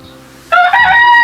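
A Texas gamefowl rooster lets out a loud, close crow that rises abruptly and holds as a bright, harmonic call after a moment of quiet background murmur.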